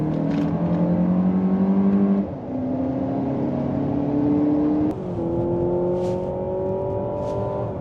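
Lexus TX500h and Mazda CX-90 PHEV accelerating hard side by side from a launch in a drag race, a loud, steady engine drone whose pitch climbs through each gear, broken by two clear shift dips.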